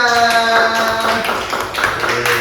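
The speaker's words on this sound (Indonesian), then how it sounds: "Ya, tepuk tangan untuk kalian semuanya." In a classroom, a group claps for the students, with scattered claps breaking in beneath a teacher's voice that talks over the start.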